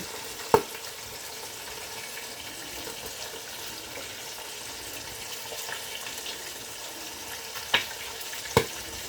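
Milkfish (bangus) frying in a covered pan, with a steady soft sizzle and a few sharp pops of splattering oil.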